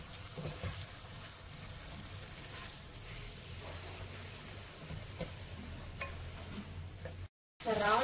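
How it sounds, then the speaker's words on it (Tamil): A spoon stirs yogurt into a prawn biryani masala in a pan, giving a soft, continuous scraping and gentle sizzle at low volume, unbroken except for a brief dropout near the end. "தயிர் சேர்த்து நல்லா கலரி விடலாம்."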